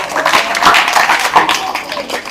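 An audience claps for a student at a school weekly test results event, a dense patter of hand claps running through the whole moment with a voice talking over it.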